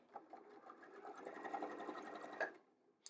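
A sewing machine runs through a quilt-as-you-go scrap mug rug strip in a steady, fairly quiet burst of rapid stitching. The motor whirs under the needle's even patter for about two and a half seconds, then stops.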